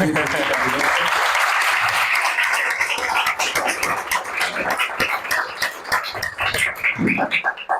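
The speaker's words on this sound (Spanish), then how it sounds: "vamos a comenzar con un aplauso para alguien que ha viajado más de 35 horas en aviones diversos" A lecture audience claps for an arriving guest speaker, a dense, loud burst of applause that starts at full strength and then thins into scattered claps and murmuring voices toward the end.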